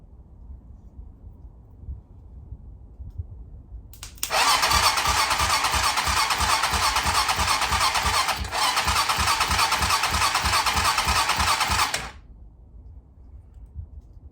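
A single-cylinder motorcycle with a no-start fault is jump-started: after a quiet hum, the starter cranks loudly and rhythmically for about eight seconds with a brief hitch midway, then cuts off without the engine catching.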